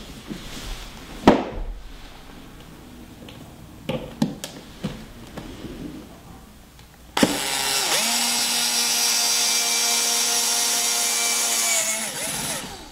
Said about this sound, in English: drill the remaining two holes